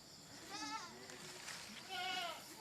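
Goats bleating at a goat pen on a palm plantation and livestock farm: two wavering calls, close but fairly quiet, over a soft hiss of background noise.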